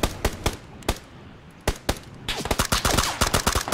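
Gunfire in PUBG Battlegrounds during a squad fight, sharp close shots first spaced out, then bursting into rapid overlapping automatic fire that grows denser toward the end.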